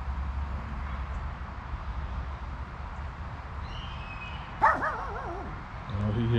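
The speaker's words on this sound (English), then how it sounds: "He's barking." A miniature schnauzer outdoors in the wind gives a single short bark with a brief yelping tail near the end, over a steady low wind rumble.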